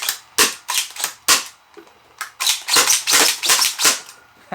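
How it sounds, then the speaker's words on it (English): Gecko toy blaster fitted with a carbine kit being slam fired, a series of sharp snapping shots in quick irregular clusters, close and loud, with no talking. "Slam firing a Gecko has never been that comfortable."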